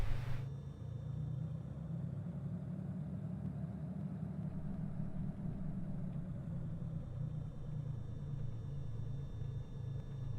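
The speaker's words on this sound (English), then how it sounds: "Baron taking off runway 26, left turn out Holtville" A Baron aircraft takes off from runway 26 in a flight simulator game, producing a steady, even engine drone with a low rumble that holds throughout, with no talking.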